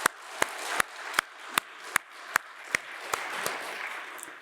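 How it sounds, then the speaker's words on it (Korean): Scattered, sparse clapping from a church congregation at a Sunday worship service, with about a dozen distinct sharp claps spaced irregularly over a few seconds, fairly faint and without voices. "크게 격려의 박수 한번 했으면 좋겠습니다."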